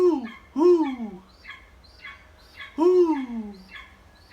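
Spotted eagle owl giving soft, low hooting calls in a short series, two stronger notes with fainter ones between, close and clear with no talking.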